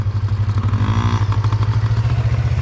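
A Yamaha PW50 dirt bike idles close by, its small two-stroke engine buzzing in a steady rapid pulse, with a brief rise in pitch as the throttle is blipped partway through; no talk.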